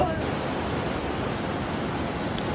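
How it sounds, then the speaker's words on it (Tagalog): Sea waves at Nacpan Beach in El Nido, Palawan, heard as a steady, broad wash of surf that rolls on without pause for the whole stretch, with no voices over it. "yan yung tunog ng dagat."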